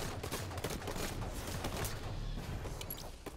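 Rapid gunfire from the video game Halo 5 crackles in dense, overlapping bursts throughout, loud and continuous with no talking.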